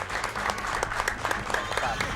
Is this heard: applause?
yes